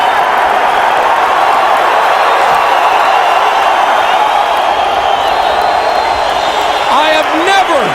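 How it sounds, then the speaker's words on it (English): A very loud crowd roars continuously at a mixed martial arts event, Frank Shamrock versus Phil Baroni, a dense wall of cheering and whooping with a voice talking over it. "I have never in my mixed martial arts career heard a crowd louder than this right now"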